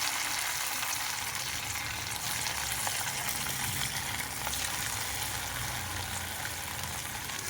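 Chicken pakoras fry in hot oil with a steady, dense crackling sizzle, constant and close, with faint occasional pops and no talking.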